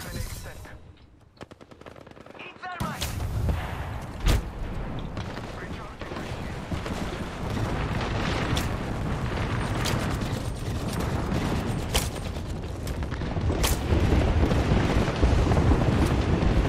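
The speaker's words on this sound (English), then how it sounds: "Thermite grenade sent. Eat thermite!" A thermite grenade explodes and burns in a video game amid rapid gunfire, bringing a roaring, crackling rush and repeated sharp shots that build steadily, with a voice heard over the din.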